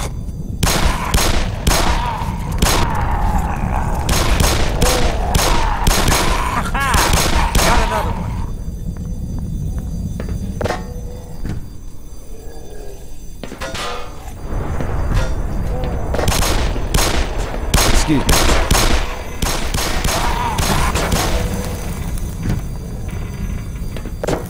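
Gunfire rattles through a Black Mesa video game session in rapid bursts and single heavy shots, with booms and thuds, a lull in the middle, then more loud volleys as in-game voices speak at times.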